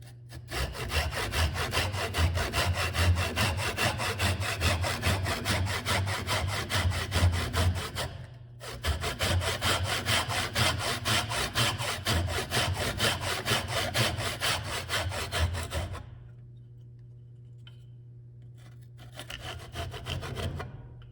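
A hand saw cuts through wood for a mortice and tenon joint in Chinese/Japanese joinery, a steady, loud rasping back-and-forth that pauses briefly, resumes, then stops before a few last faint strokes.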